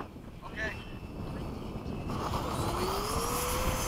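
An F/A-18 jet on a touch and go, a broad roar that swells after the first couple of seconds and holds steady with a rising whine, mixed with wind noise and a brief voice early on.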